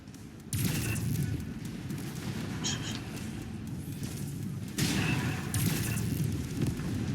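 An explosion as a target is destroyed in the Mechwarrior 5 video game, a loud sustained blast with rumbling low-end debris, swelling again midway and continuing throughout without any clear speech.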